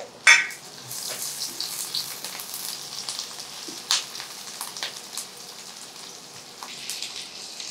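Onions and green chillies hit hot oil with spices, sizzling moderately loud and close, with an initial sharp splash and a crackle of spattering pops that continues throughout, with no talking.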